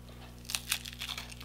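Someone bites into a crunchy homemade keto taco shell, giving a few brittle crackles and crunches spread across a moment of chewing, close and fairly quiet over a low steady hum.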